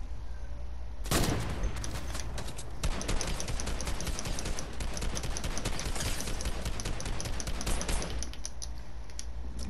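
Rapid video game gunfire during an online shooter match with snipers, a steady dense crackle of distant shots running almost the whole time after a loud burst near the start.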